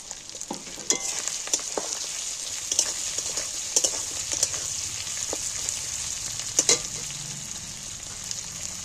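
Chopped tomatoes sizzle and fry steadily in a hot pan for a fish roe dish, with scattered sharper crackles and spatters over the continuous hiss, close and fairly loud, no talking.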